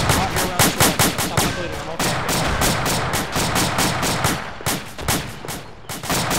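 Gunfire in Arma 2 during a rescue firefight, with loud, rapid automatic bursts of shots nearby, continuing steadily with short gaps and a voice talking underneath.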